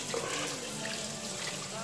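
A kitchen tap runs steadily into a pot of water being measured for banga and bitter leaf soup, a close, even hiss lasting the whole moment.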